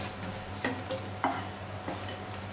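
Bread pieces fry in ghee in a pan with a quiet, faint sizzle. A few soft clinks and scrapes of a utensil stirring come through close by, and no one speaks.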